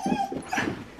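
Dogs on a camping trip let out short, high whimpers and yips in quick succession, close by and fairly clear, all within about a second.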